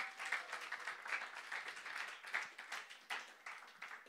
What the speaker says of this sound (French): tu peux applaudir Dieu pour tout ce qu'il a fait dans ses vies